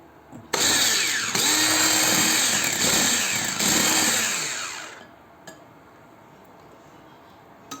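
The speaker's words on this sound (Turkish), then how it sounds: "Ve havasını söndürmeden düşük devirde şöyle bir çırpıyoruz." An electric hand mixer whirs loudly at low speed, whisking a glass of milk into a hot soufflé batter, running steadily for about four and a half seconds before switching off, leaving a quiet kitchen.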